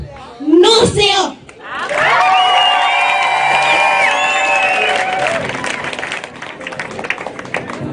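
Crowd at a hospital commissioning ceremony breaks into sustained applause with cheers and whoops, loud and steady for several seconds, then tapering, after a short burst of speech at the start.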